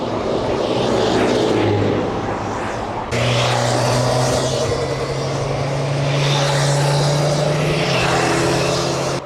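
Motorcycles passing on a busy road, heard while riding a bicycle toward Laško in Slovenia: a continuous loud engine roar under wind buffeting, with a sharp jump in volume partway through as a bike closes in, then droning engine tones.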